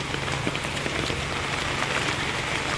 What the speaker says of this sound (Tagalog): Kaya lang, sobrang ulan